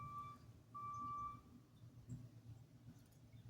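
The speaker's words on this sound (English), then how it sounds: "that sound, the beep beep sound, if you heard it, it was from a regular as van" Two faint reversing beeps from a van, the second longer, sounding at a distance over low rumbling background noise.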